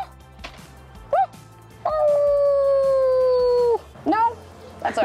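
A dog howls in long, sustained rising and falling tones, with a couple of shorter yelping howls before and after, loud and close, with faint background noise between the calls.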